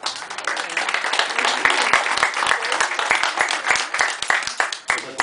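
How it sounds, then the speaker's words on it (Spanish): A gathering at a PRI party event in Fluvial Vallarta applauds the party's secretary general, Celina Lomelí, with loud, dense clapping throughout and voices faintly mixed in beneath the steady roar. "a quien le damos un fuerte aplauso."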